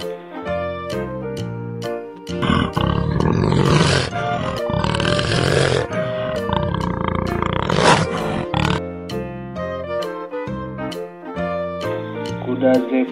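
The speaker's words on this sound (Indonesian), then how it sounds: "Leopard." A leopard gives rough, rasping roars and grunts in bursts through the middle of the clip, loud over a bed of background music.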